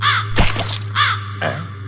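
A crow caws three times at close range, each call loud and harsh, with a short sharp noise between the calls and a steady low hum underneath.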